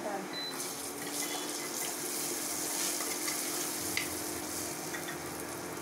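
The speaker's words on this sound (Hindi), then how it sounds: "अब इसमें डाल रही हूँ मैं मटर।" Peas tipped into a hot, oily pan for black urad dal khichdi, giving a steady, close sizzle and crackle with a faint clink near the end, while someone talks over it.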